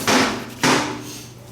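A hammer strikes the lug of a transmission cover on a 2011 Honda CR-V with a noisy gear shift, two sharp metallic taps about half a second apart, close and loud, each ringing briefly before fading.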